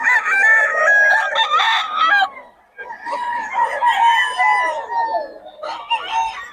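Several chickens and roosters belonging to a Pangasinan breeder crow and cluck in loud, overlapping bursts, with a short lull in the middle before the calls pick up again.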